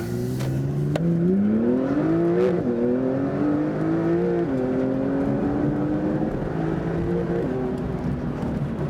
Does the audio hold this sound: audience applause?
no